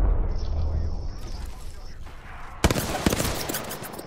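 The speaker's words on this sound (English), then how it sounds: "Dude, stop with the charge rifle," A charge rifle in the Apex Legends video game: a thin high whine builds, then sharp cracking shots and bursts land in the last part of the clip while a person talks.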